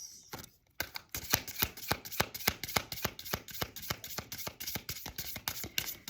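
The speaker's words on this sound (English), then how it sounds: "I shuffled this deck only twice because no card came out" A deck of playing cards is riffled and shuffled repeatedly, quick rhythmic flicking bursts close by after a brief pause at the start, with no talk.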